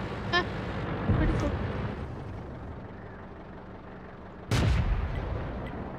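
Tank cannon fire in the World of Tanks game: two loud booming shots a few seconds apart, each with a short crackling tail, over a steady low engine rumble.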